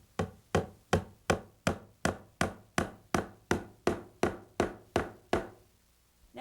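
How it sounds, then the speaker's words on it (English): A hammer driving a finish nail into a wooden stair tread: about fourteen sharp, evenly spaced knocks with short decays, close and clear, then silence. "I want to take a finish nail and drive it into the tread"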